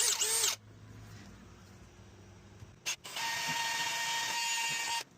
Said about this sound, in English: All right, let's get to drilling.